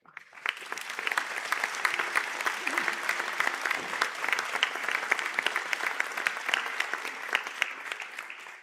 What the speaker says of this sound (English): I ask the graduates of the Bachelor of Sciences in Applied Industrial Science to stand for a round of applause.